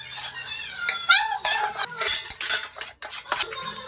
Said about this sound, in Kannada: ಅದ್ರ ಮೇಲೆ ಮತ್ತೆ ಫಿಫ್ಟಿ ಪರ್ಸೆಂಟ್ ಬೇಜಿ ಬೆಂದಿರೋ ರೈಸ್ ಹಾಕ್ತಾಯಿದ್ದೀನಿ